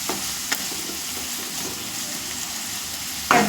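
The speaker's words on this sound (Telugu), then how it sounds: "ఈలోపు కరివేపాకు కూడా వేసాను. వేసి ఒకసారి మిక్స్ చేసుకుంటున్నాను." Pasta and curry leaves are stirred together in a hot pan, giving a steady sizzle with a few sharp utensil scrapes, one near the start and a louder clatter at the end.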